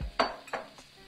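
Sausage mixture is stirred in a frying pan with a few quick scrapes and knocks of a utensil against the pan over a faint sizzle, heard close and brief.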